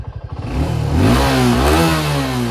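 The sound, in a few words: Suzuki Gixxer 250 motorcycle engine revving while standing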